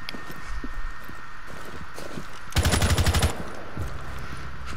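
Rainbow Six Siege gunfire: one short, loud automatic burst of rapid close shots amid quieter in-game footsteps and ambient noise.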